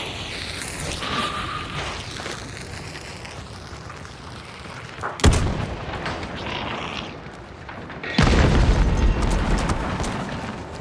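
Two loud, deep grenade blasts in the video game Hunt: Showdown boom a few seconds apart over a steady background rumble, each followed by a brief rolling decay.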